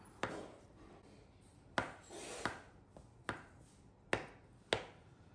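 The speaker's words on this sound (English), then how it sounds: "we slice our avocado, or we'll cut it open and then cut that into big chunks as well" A knife chops through avocado on a board, landing six sharp separate strikes spaced about half a second to a second apart. The cuts sound close and clear with no voices.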